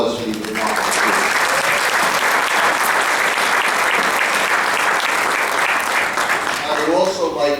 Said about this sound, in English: Let's have a big round of applause for these remarkable students